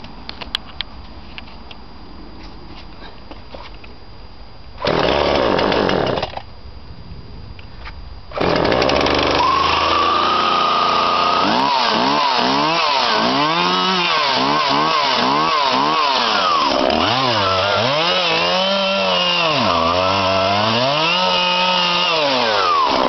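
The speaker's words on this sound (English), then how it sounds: "you pull the choke full out and you give it one pull or two pulls on the lever, and you'll hear it want to start" Husqvarna 137e petrol chainsaw: a short burst at pull-start that dies, then the engine catches and runs steadily, close and loud, its pitch climbing and falling repeatedly as the throttle is revved.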